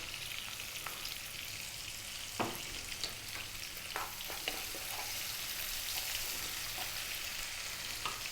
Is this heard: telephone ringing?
no